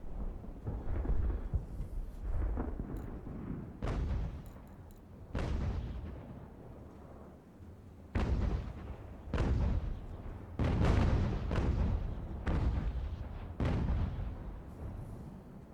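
Naval cannon broadsides in the age-of-sail strategy game Ultimate General: American Revolution, with about a dozen heavy booming shots in irregular bursts, some overlapping into rolling rumbles, carrying loud and deep with no talk.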